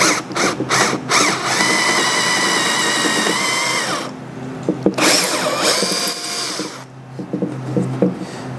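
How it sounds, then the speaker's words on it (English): A power drill with a larger bit bores through oak for a loungeside drawer, whining steadily up close with short bursts, a brief pause and a restart, and grinding wood chatter, with no talking. "in the oak, so we're going to have to go through with the larger drill bit."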